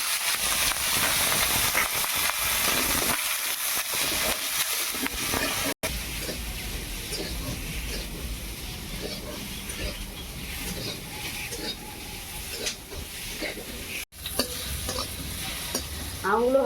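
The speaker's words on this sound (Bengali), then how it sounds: "প্রথমে আমগুলোকে ভেজে নেব" Mango pieces frying in oil in a wok (kadai) send up a loud, steady sizzle that lasts throughout, with stirring scrapes and small bursts of spattering.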